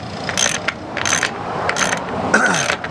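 A wrench or ratchet clicks in short bursts while a stainless steel mast bushing fitting is tightened. Four separate rounds of metallic ratcheting sound close by, with no talk over them.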